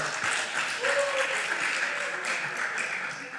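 Audience applause at a church seminar, a steady dense wash of clapping that holds for the whole stretch, with a voice faintly audible beneath it.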